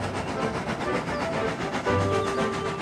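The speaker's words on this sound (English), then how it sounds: "Edward cheerfully buffered up and the strange train set off." A toy engine pulling a train sets off in a remake scene, producing a steady rolling rumble with faint rhythmic clatter that swells slightly toward the end.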